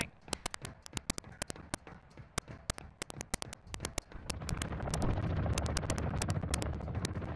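Rapid bursts of gunfire in DMZ Warzone crack out in uneven clusters of sharp, loud shots, followed by a steadier rumbling roar of battle noise in the second half.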